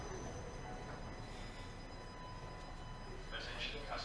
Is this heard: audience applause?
no